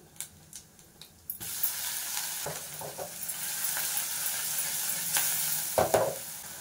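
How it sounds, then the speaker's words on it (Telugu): A paste of ginger, green chili and garlic drops into hot oil and fries with a steady sizzle after a quiet start, with occasional scrapes and stirs of a spoon, close by. "ఈ మసాలా పచ్చివాసన పోయే వరకు కాసేపు ఫ్రై చేద్దాము"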